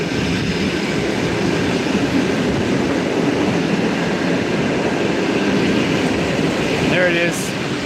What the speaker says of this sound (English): So we're gonna catch the train in 1 minute.